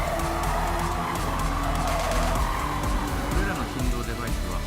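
Gran Turismo 7 race car tires skidding and squealing through a corner over a loud, continuous engine roar, the squeal rising and bending in pitch across the few seconds.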